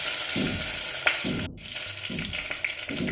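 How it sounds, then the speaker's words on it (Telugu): Stuffed eggplants cook in a little oil in a pan, a soft steady sizzle broken by a few stirring scrapes and clatters. "కొంచెం నూనెలో మగ్గిద్దాం ఫ్రెండ్స్"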